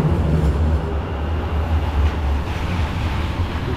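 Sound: tram passing in Sheffield

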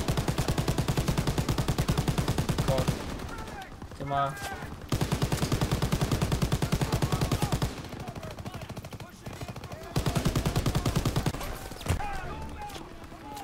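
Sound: turret machine gun firing in Call of Duty WWII video game

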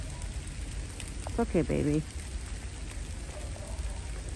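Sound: light rain, a little more than a drizzle

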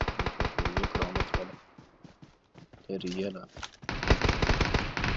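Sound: gunfire in the video game PUBG Mobile

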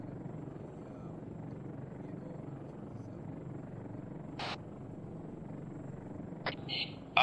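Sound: helicopter in video game ARMA 3

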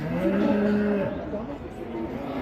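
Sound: cattle mooing

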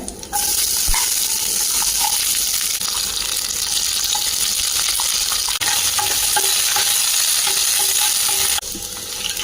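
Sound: crushed small onions frying and being stirred in pan

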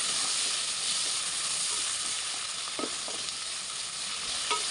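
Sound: onions and green chillies frying in a pan

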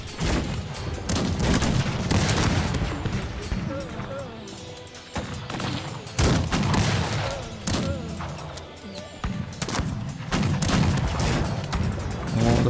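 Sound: gunfire in video game Cossacks 3

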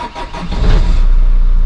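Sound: car engine starting

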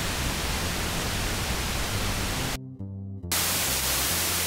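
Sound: pink noise from synthesizer noise generator

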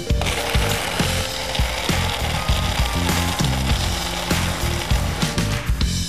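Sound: blender blending daiquiri with ice cubes

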